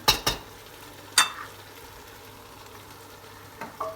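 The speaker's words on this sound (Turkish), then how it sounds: "Şimdi hafif bir karıştıracağım. Bamya'ya çok kaşık vurulmaz." A spoon scrapes and knocks against a pot of meat and dried okra stew in olive oil in a few short strokes, with a soft bubbling simmer underneath and no talking.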